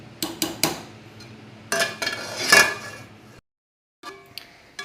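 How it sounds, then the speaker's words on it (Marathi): Metal clinks and clatters of a lid being handled and set back on a pot of dal, several sharp close taps in quick succession, a short silence, then a few lighter clinks. "आता परत आपण झाकण ठेवू।"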